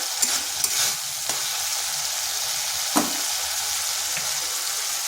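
Spice paste fries in a wok with a constant, moderately quiet sizzle, punctuated by a few brief stirring scrapes and clinks near the start and around the middle.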